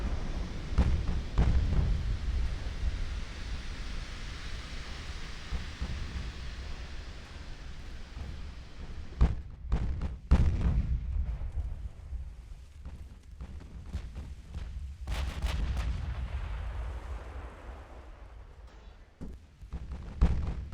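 A naval shell strikes a warship amidships beneath the turrets in the Ultimate Admiral: Dreadnoughts game, heard as deep booming impacts and sharp blasts over a constant low rumble of battle noise.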